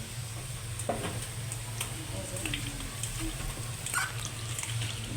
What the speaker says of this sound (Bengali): এখন আমি মাংসটা সুন্দর করে হালকা করে একটু ভেজে নিব